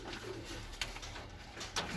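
Soft cooing from a newly acquired pigeon of the Chopra line, a low steady murmur close by with a couple of faint brief clicks, no talking.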